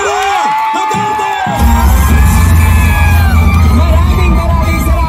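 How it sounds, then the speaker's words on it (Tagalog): Loud political rally crowd in Tondo cheering, yelling and whooping for Vice President Sara Duterte, a dense continuous roar that swells after an announcer's voice and holds steady to the end. "Labungin ng mainit na palakpak at sigawan, Vice President Sara Duterte!"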